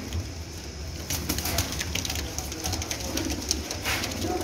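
Pigeons of the Sialkoti breed at a loft in Jhelum, with soft cooing and bursts of wing flapping close by amid steady background noise and outdoor hum.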